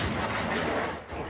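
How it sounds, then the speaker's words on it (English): Cannon fire marking the centenary of the WWI armistice booms and rumbles as a sustained, fairly loud roar that dips briefly near the end, with no one talking. "At midnight UK time, 100 cannons fired."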